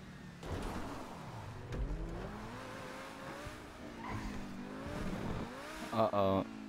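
A car races through a GTA 5 stunt race, its engine droning and shifting pitch over faint tire noise, while a voice talks over it and a brief louder burst comes near the end.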